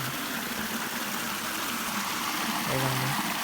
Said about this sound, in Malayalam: വെള്ളം അവിടെ നിന്ന് ഒഴുകി വരുന്നു ഇവിടത്തെ ഇത് ചെറിയ ചെറിയൊരു വെള്ളച്ചാട്ടമായി മാറുന്നു